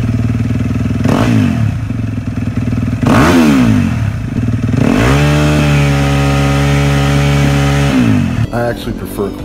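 A 2016 Yamaha YZ dirt bike fitted with an FMF Powercore 4 exhaust revs loudly and close up, with several sharp throttle blips and then a long sustained high rev before it drops back.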